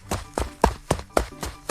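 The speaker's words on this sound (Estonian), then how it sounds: "Jah, keegi jookseb." Someone runs with quick, regular footsteps, about seven firm thuds in an even rhythm, close and clear with nothing else heard.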